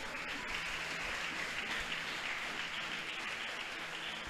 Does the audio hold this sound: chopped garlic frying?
no